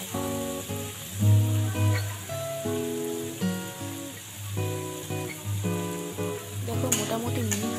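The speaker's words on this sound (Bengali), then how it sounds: "আমরা একটু ভালোভাবে মিনিট চালিয়ে এটাকে নেড়ে নেড়ে ভাজবো, যাতে বাঁধাকপির পাতাগুলো একটু ভাজা ভাজা হয়ে যায়" Shredded cabbage stir-fries in a hot pan for vegetable chowmein, a steady sizzle with occasional stirring scrapes, heard close up beneath a bed of background music.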